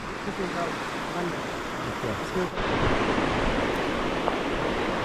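A large river near Moola Chutok in Khuzdar, Balochistan, swollen after rain, roars as a continuous broad wash of rushing water, loud and close, with wind buffeting the microphone.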